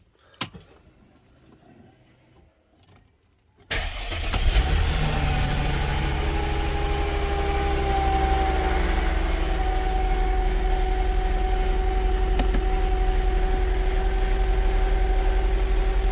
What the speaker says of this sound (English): Alright, let's start it up. Let's see how it starts.